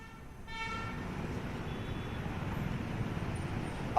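A car horn gives a brief toot at the start, then a steady wash of road traffic follows: passing vehicles, engine drone and tyre rumble, fairly close and continuous throughout.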